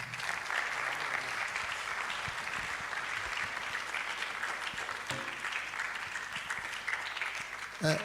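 Sustained applause from an audience at the Ghana College of Physicians and Surgeons public lecture, a dense, steady wash of clapping from many hands holding at even loudness throughout, with faint voices underneath.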